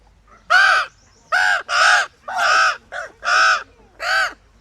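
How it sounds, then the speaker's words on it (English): Baby ravens call close by in a bird of prey centre, a series of about seven loud, harsh caws in an uneven rhythm with short pauses between them. "you really don't see baby ravens in the wild."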